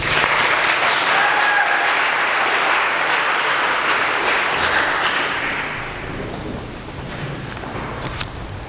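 An audience at a school senior speech gives loud, sustained applause that fills the room and slowly thins toward the end.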